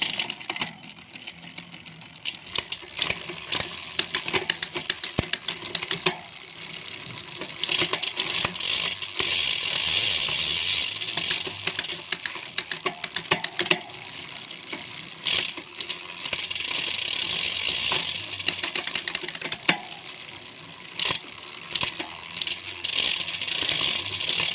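Ratchet clicking from a Sensah MX9 fishing reel's mechanism being adjusted by hand, a close, steady run of dense mechanical clicks and rattles with brief pauses, no voices.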